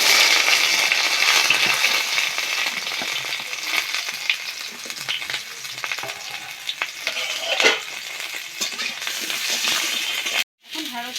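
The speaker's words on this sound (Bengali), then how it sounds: "প্রথমে ঢেঁড়সটা ভেজে নেব।" Okra fries in hot oil in a wok on a stove, with a loud continuous sizzle and occasional stirring scrapes. The sizzle cuts out briefly near the end.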